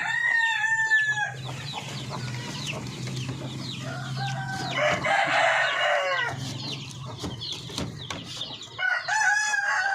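Chickens on a poultry farm with young chicks cluck and squawk close by, with a rooster crowing at the start and end amid overlapping bird calls.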